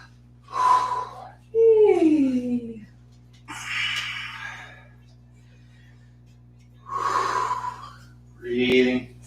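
Heavy, audible breaths during a yoga flow class, a series of slow inhales and exhales in separate bursts with gaps of quiet between them, close and fairly loud over a steady low hum.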